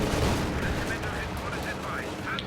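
Panzer Fusiliers open fire in Company of Heroes 2, a dense, continuous crackle of rifle and machine-gun shots mixed with distant booms in a busy battlefield soundscape.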